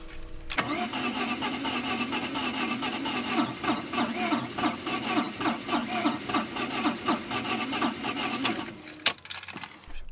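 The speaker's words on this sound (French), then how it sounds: "On a bien quelques explosions, mais on dirait qu'elles contrarient la rotation du moteur." A car engine from a Maserati left abandoned for 15 years cranks over rhythmically with uneven sputtering misfires for several seconds, then stops, followed by a sharp click.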